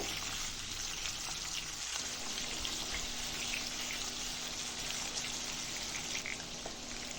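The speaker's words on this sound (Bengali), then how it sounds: "এতে আমি তেল দিয়ে দিয়েছি তেল দিয়ে এখন আমি মাছ ভেজে নেব" Fish fries in hot oil in a wok for a Bengali fish curry, giving a soft, continuous sizzle and crackle that holds steady throughout with no talking.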